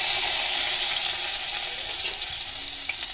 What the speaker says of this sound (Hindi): अभी 1 चम्मच जीरा डाल रही हूँ